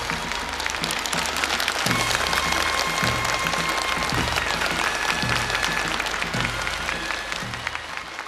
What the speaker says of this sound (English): Please let's give her a warm welcoming applause.